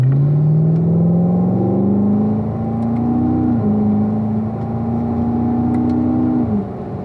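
A gray Corvette Grand Sport takes an easy cool-down lap on a race track, its engine droning steadily and close with gentle rises in pitch and a few shifts, with no talking.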